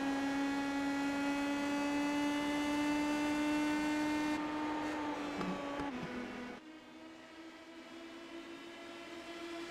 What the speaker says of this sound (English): You can hear Owens banging up against that limiter there as well.